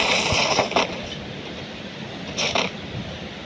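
A train rushes past in the video game Free Fire, with a loud rolling rumble and clatter that swells twice as it goes by.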